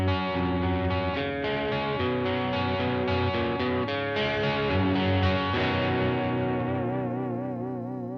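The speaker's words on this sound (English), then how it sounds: "So this is the middle single coil on its own." Ibanez EX-370 electric guitar on its middle single-coil pickup alone plays strummed and picked chords through chorus and echo effects, steady and close, ending in a long, warbling, fading ring.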